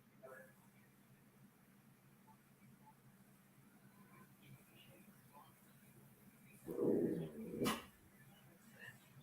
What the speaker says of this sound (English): These dogs bark a lot,